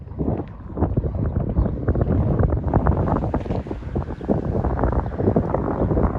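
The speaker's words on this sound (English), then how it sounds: "this wind killing me, man" Heavy wind buffeting the microphone outdoors, a loud, continuous rumbling roar with gusty surges throughout and no talk heard.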